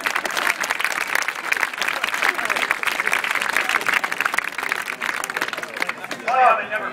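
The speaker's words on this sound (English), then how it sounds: "How about we give a round of applause for Josh?" Spectators at an outdoor trick shooting show give a round of applause, steady crowd clapping filling the air with a voice briefly heard near the end.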